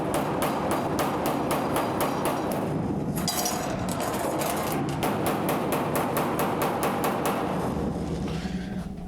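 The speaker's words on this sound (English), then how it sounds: "we're taking the hammer, we're kind of rolling it in, and we're not bouncing off it" Hammer on a car door's sheet metal panel during restoration of a 1973 Challenger: fast, steady run of sharp metallic taps, close and loud, with a brief pause near three seconds before the rapid rhythm resumes.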